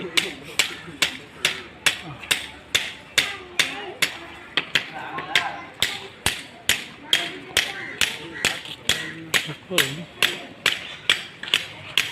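A blacksmith hammers old iron into tools such as sickles and axes, landing sharp, ringing blows in a steady rhythm of about two per second, loud and close, while someone talks in the background between strikes.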